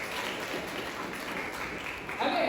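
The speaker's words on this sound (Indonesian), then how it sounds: "Tepuk tangan lagi." A classroom of students claps together during a lesson, a fairly steady patter of applause with a teacher's voice rising near the end.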